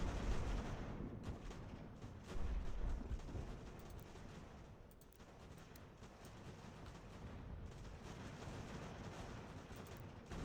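Steady musket volleys and booming artillery fire roll through a battle in Ultimate General: American Revolution, a dense, continuous wall of gunfire with heavier bursts near the start, with no talk over it.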